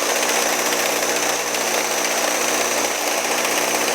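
A grain auger loads barley, giving a loud, constant mechanical roar with dense rattling of grain and engine drone close by, no talking.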